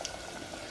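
Floured shrimp frying in hot grease, a continuous close sizzle and bubbling crackle with no voices.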